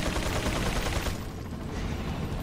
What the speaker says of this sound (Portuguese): Tiro de magno.